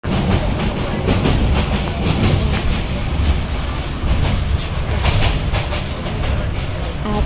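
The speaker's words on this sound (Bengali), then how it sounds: "আমরা যাওয়ার পরই 5 মিনিটের মধ্যে ট্রেন এসে পড়ে" The Kurigram Express rolls into a station with loud, continuous rumbling and rhythmic clickety-clack of wagons passing close by, while people talk faintly in the background.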